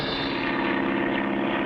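Steady drone of an airplane engine in flight as the craft nears an airport, a continuous even hum filling the clip with no talk.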